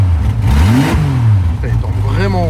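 Jeep off-road vehicle engine running loudly up close, a deep rumbling idle that rises and falls through revs with shifting pitch, with a voice talking over it.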